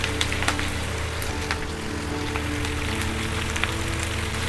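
Three green chillies and curry leaves sizzle in a pan, a dense, even crackle that runs without pause, with scattered pops and a low hum beneath.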